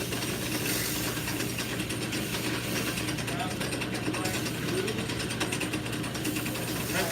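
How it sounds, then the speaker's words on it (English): A workpiece being sanded on a lathe gives a continuous whirring, grinding mechanical drone with a steady hum, close and constant throughout. "Sand on the lathe this time."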